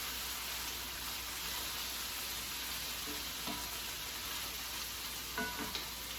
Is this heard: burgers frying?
yes